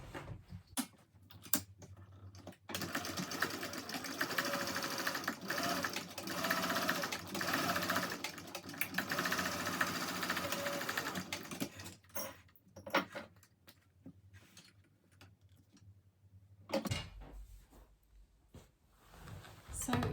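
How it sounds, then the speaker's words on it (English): Close and clear, a sewing machine joins the bottoms of a Cornish backpack with a half-inch seam, whirring steadily for roughly ten seconds, then short starts and handling clicks as a person talks. "now I'm going to sew the bottoms together with 1/2 inch seam allowance"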